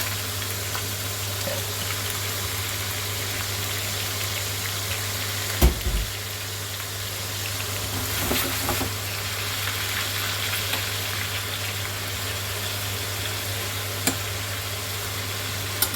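Veal and fennel frying together in a pan, a continuous moderate sizzle with a low steady hum beneath and an occasional clack of a utensil, no voices.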